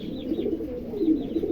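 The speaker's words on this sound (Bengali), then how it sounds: "এখানে একজোড়া হাউস পিজন আছে, দেখেন চমৎকার একজোড়া হাউস পিজন, অনেক বিশাল বড় সাইজ" A pair of large house pigeons, an indigo female and a black male, coo softly and repeatedly at close range, low throaty murmurs rolling on without pause.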